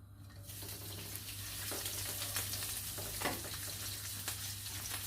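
Shrimp sizzle in a hot pan for Thai shrimp fried rice, a steady loud frying hiss with occasional crackles and stirring scrapes, and no talk.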